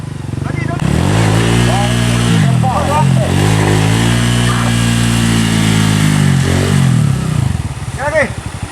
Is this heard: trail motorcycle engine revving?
yes